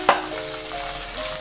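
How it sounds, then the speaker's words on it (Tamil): Onions sauté in hot oil with dried fish, a steady close sizzle with a brief stirring clatter at the start, no voices. "இந்த வெங்காயம் போட்டுட்டு இப்போ நம்ம இதை நல்லா வதக்கிற வேண்டியதான்"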